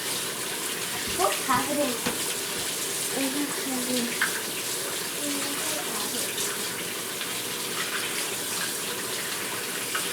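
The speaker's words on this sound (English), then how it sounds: "slice it, and then rinse in the sink" Water running from the tap into a kitchen sink while food is rinsed, a steady close splashing hiss that goes on throughout, with a brief spoken question and a voice heard over it.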